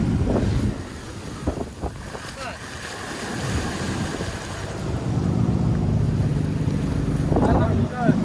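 A fishing boat moves over rough open sea off Porbandar, Gujarat, with steady wind buffeting the microphone and waves washing against the hull. Voices talk faintly at moments.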